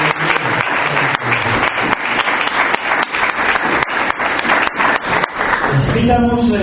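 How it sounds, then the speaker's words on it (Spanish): Dense applause from a congregation at a church service fills the room, with rapid overlapping claps running steadily for several seconds before a brief tonal sound rises at the end. "démosles un fuerte aplauso"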